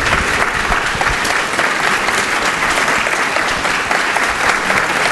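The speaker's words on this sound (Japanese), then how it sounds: "その 拍手に本当に心より御礼申し上げます。" Sustained audience applause at a Japanese press conference with former Japan national football team coach Vahid Halilhodžić, steady dense clapping filling the room at even loudness throughout, with no talk over it.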